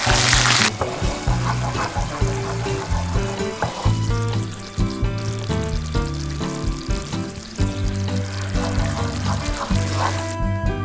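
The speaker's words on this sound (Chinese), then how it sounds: "冰糖融化后，加入适量的开水" Boiling water poured into melted rock sugar in a wok, starting with a sharp hiss, then settling into continuous bubbling and sizzling with scattered clinks, faint background music throughout.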